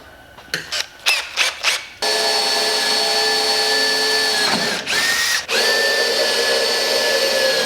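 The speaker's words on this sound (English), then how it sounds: "pop the light out and drill my holes" A power drill whirs in several short bursts, then runs in one long, continuous high-pitched whine with a couple of brief dips, close by, drilling mounting holes for a light on an airboat under construction.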